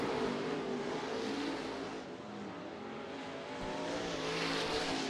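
IMCA stock cars race three wide down the back straightaway at Bakersfield Speedway. Their engines roar loudly and continuously, and the roar dips briefly mid-pass before surging again.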